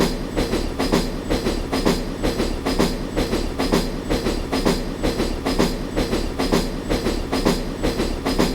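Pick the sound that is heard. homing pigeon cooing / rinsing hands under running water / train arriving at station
train arriving at station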